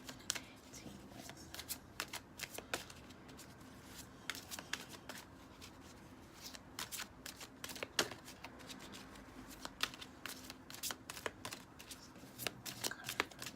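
Illuminati tarot cards are shuffled by hand in a quiet room, giving a long run of soft, irregular flicks and riffles close by with no talking.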